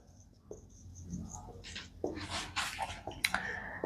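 Marker or chalk scraping and tapping across a board during a physics lesson, with several short strokes in an irregular rhythm, close and fairly quiet, a few sharper squeaky strokes near the end.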